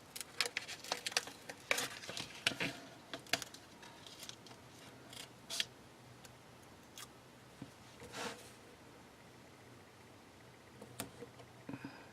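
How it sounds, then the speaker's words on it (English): Quiet, close scissor snips cutting a sticker, a scattered series of sharp crisp cuts with short pauses between them and no talking. "I'll just snip right off."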